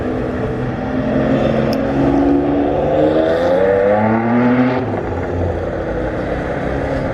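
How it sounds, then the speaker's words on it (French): A Ferrari sports car drives down a freshly paved road in Monaco, its engine note rising and falling in long sweeping tones, fairly loud and steady throughout. "la Ferrari qui descend"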